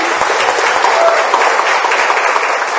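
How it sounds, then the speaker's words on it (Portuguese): Sustained applause from a crowd at a university forestry engineering week event, dense clapping throughout at an even, fairly loud level. "uma salva de palmas para eles."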